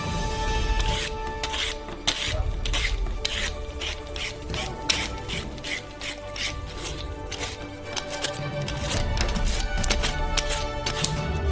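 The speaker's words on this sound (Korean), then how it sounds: "대야를 가져다가 야채 필러로 당근 껍질을 벗겨요." Repeated raspy scraping strokes of a vegetable peeler stripping the skin from carrots into a basin, steady and close, continuing in a brisk rhythm without talk.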